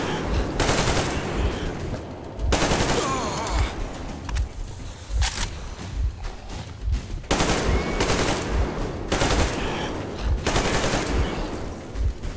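Machine gun fire in Metro Exodus comes in repeated loud bursts of rapid shots broken by short pauses, close and dominant, with the bursts recurring across the whole stretch.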